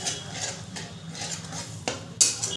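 A spatula scrapes and clinks in a pan as spice paste for dhokar dalna is stirred and fried, with faint sizzling beneath the intermittent close-up utensil knocks.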